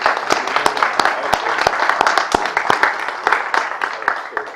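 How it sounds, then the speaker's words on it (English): A modest online-conference audience claps at a knowledge graph event, sparse individual hand claps sounding steadily at close range for several seconds, with a murmur of voices mixed beneath. "let's give the folks another round of applause."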